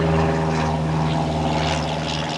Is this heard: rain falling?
no